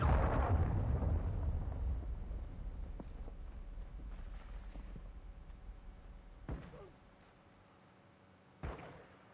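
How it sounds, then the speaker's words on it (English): A cruise missile blast in Call of Duty: Modern Warfare 2 multiplayer opens with a loud, deep boom that rumbles and fades over several seconds, followed later by two sharp, isolated knocks. "Hostile cruise missile incoming."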